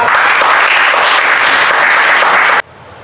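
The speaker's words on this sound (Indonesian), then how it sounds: "Aplaus untuk Farhan." Applause for Farhan from a gathered group: a dense, steady wash of clapping that holds evenly for about two and a half seconds and then cuts off abruptly.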